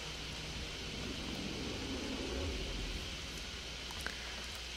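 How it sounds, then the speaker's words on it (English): Rain in the stealth game Thief, a constant faint hiss of falling water with a low rumble underneath and a single soft tick near the end. "I love the rain in this game."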